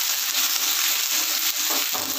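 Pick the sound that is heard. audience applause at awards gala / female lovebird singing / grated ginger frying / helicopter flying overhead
grated ginger frying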